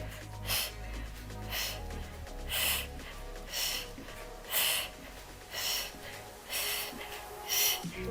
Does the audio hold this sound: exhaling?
yes